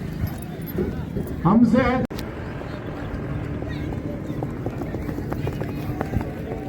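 A five-year-old mare from Bagad village in Gujarat moves with quick clip-clopping hoofbeats that are close and fairly loud, while people talk over the sound.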